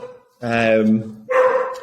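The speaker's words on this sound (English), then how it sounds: "the dog's going wild" A dog barks in a gym during a class, two loud close barks separated by a short pause, the second trailing into a yelp, with no speech over them.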